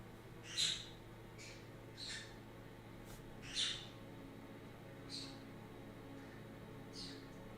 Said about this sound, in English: What is it, birds?